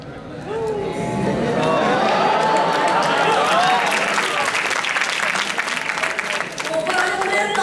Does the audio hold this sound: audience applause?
yes